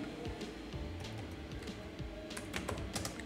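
Code being typed for a Python client socket on a Raspberry Pi setup: quick, soft computer-keyboard keystrokes in uneven bursts, close but quiet, with no voice.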